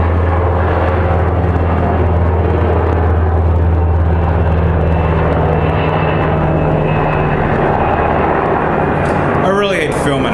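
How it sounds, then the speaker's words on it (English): A helicopter passes overhead outdoors, a steady loud rotor and engine drone filling the scene throughout, with birds chirping near the end. "let me wait for this chopper to fly by"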